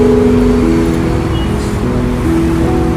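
A motor vehicle engine arriving, a steady close drone with sustained tonal hum that rises slightly toward the end, with no talk.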